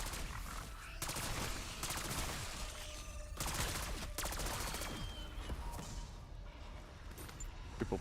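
Rapid gunfire from a triple pack-a-punched weapon in Black Ops 6 Zombies, dense bursts of shots crackling in clusters with brief pauses, loud and busy over game noise.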